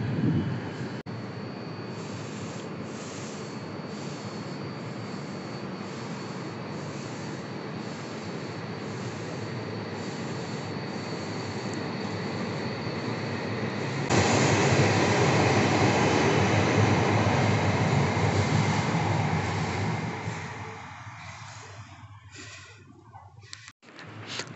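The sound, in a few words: Hayabusa-Komachi shinkansen train passing at 320 km/h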